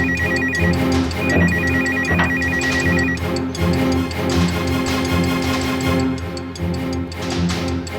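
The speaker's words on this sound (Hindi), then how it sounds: "हाँ घंटी बज रही है" A phone rings continuously in a steady electronic ringtone pattern, loud and close, with no voices.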